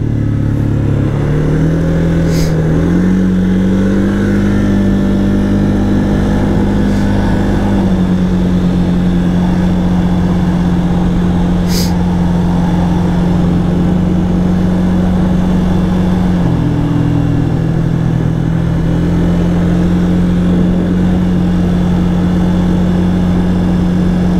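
A Can-Am Outlander 700 quad engine drones steadily while driving, a loud continuous low rumble that shifts slightly in pitch with throttle changes, close up and without talk.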